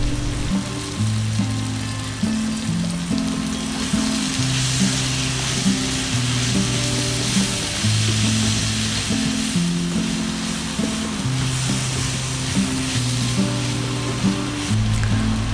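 Mushrooms sizzle and fry steadily in a pan of tomato masala with chili powder, a continuous loud crackle throughout, with low tonal hum and occasional stirring underneath and no talk.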